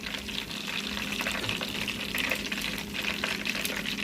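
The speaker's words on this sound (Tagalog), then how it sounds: "Prito tayo ng nuggets." Steady crackling sizzle of chicken nuggets frying in hot oil, continuous and close, with faint stirring; no voices.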